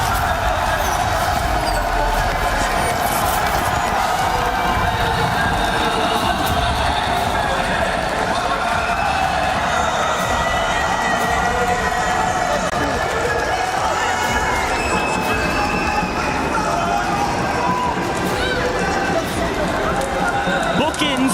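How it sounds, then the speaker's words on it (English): A loud home crowd at a Call of Duty esports watch party roars and cheers continuously, a dense sustained wash with a commentator's voice running over it the whole time. "you can hear the crowd"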